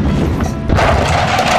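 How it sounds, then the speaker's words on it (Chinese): A release device on a test suspension bridge with red wooden planks detonates, dropping the deck. It lands as a sudden loud boom and crash partway through, followed by continuing rumbling clatter. "当爆炸声响起的一刹那，整个桥面瞬间开始下坠"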